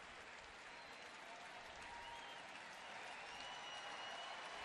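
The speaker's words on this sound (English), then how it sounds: "Friday night crowd at Progressive Field getting behind Masterson here." A Friday night baseball crowd at Progressive Field applauds steadily, a dense wash of clapping and cheering that holds at an even, moderate level from start to finish with no voices standing out.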